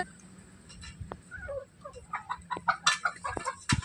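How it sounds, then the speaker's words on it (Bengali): Sonali chickens on a farm cluck and squawk in a flurry of short, repeated calls, starting sparse and growing busier and louder toward the end, close by with no talk. "এটা হচ্ছে সোনালি মোরগ"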